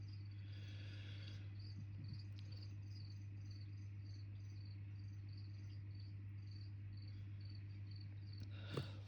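Crickets chirp in a steady, rapid pulsing rhythm, faint and in the background over a constant low hum.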